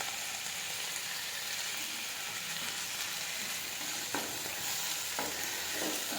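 Chopped coriander and fenugreek leaves stirred into a frying aloo and soya chunk curry, giving a steady soft sizzle with a few brief scraping strokes of the spoon, close and even, with no voices.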